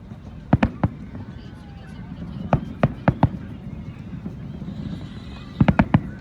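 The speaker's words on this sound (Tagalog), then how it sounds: "May fireworks." Fireworks burst over Katara in Qatar during an Eid al-Adha sky show, sharp distant cracks arriving singly and in quick clusters over crowd murmur and talk.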